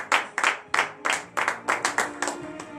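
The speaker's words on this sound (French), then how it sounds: "donnez de vives acclamations à l'Éternel" A handful of congregants at a morning prayer service clap in a loose, uneven rhythm, about a dozen distinct sharp claps spread over a few seconds, fairly close.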